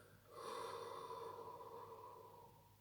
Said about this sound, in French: et j'expire profondément jusqu'à ce que les tensions s'apaisent